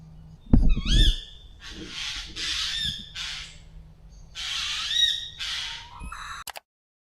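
Loud hoots and squawking calls from an owl, several harsh rising cries in bursts with short gaps, close by in an otherwise quiet setting.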